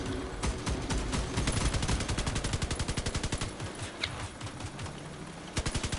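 Rapid bursts of automatic gunfire from a CrossOut vehicle combat match rattle in dense, loud rhythmic volleys, pausing briefly before short renewed bursts near the end.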